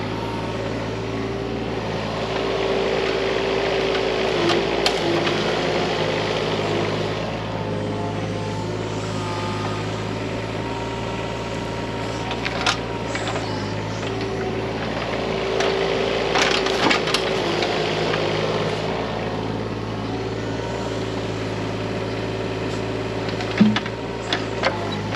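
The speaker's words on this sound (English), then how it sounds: "I cut 3 logs at one time using the 25-inch bar" Stihl MS500i chainsaw with a 25-inch bar cutting through three stacked firewood logs at once, a steady loud engine drone with sharp splintering bursts of wood throughout, close and continuous.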